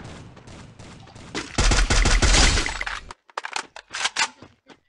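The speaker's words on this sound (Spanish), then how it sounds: "De dos disparos se murió Jesús." Loud bursts of rapid gunfire in Free Fire, followed by a series of sharp, scattered shots with brief silences between them.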